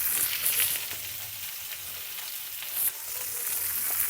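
Potatoes fry with turmeric in a pan, giving a continuous moderate sizzle with soft hissing crackles and a brief stir or shift partway through.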